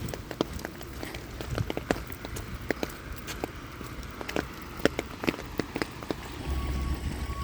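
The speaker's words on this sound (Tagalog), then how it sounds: "Let's go walking in the rain." Rain falling outdoors in a garden while someone walks, a steady soft patter with scattered sharper drips and taps close by, fairly quiet throughout, no talking.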